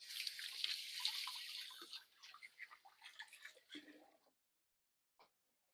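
Hands washed under a running kitchen tap while baking a cranberry banana coffee cake, a soft steady splash of water for about two seconds, then scattered drips and squishy rubbing that fade to silence, faint and close.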